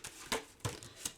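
A deck of tarot or oracle cards is shuffled by hand during a reading, with three quick riffling bursts, close and moderately loud.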